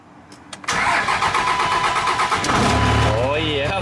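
A GM Duramax diesel truck engine cranks briefly, then catches and roars to life, settling into a loud, rumbling idle nearby; voices are faintly audible underneath.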